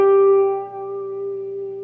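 A single sustained guitar chord, a major seventh resolving, rings out clearly and decays slowly, its tones settling into a resolved, stable sound.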